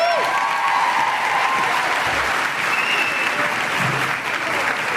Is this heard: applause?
yes